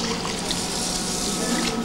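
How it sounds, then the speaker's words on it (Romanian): Water pours steadily onto rice in a rice cooker, a close, continuous splashing and gushing stream lasting about two seconds with no break. "punem apă. Stai, pun apa."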